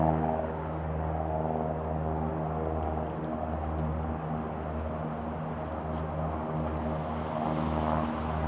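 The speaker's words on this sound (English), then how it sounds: "There's a plane taking off from Billy Bishop Airport." A propeller plane taking off from Billy Bishop Airport, heard as a steady, droning engine hum at a moderate distance, holding even throughout with no talking.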